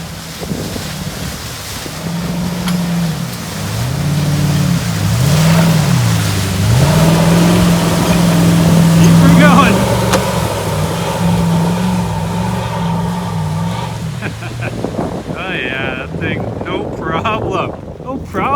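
A lifted Ford F350 pickup drives through a deep mud hole on a golf course, its engine droning steadily and swelling and dipping with the throttle under gusty wind noise, with sloshing toward the end.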